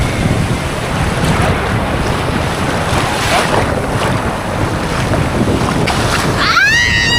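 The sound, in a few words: strong wind at the seaside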